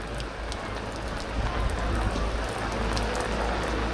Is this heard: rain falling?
yes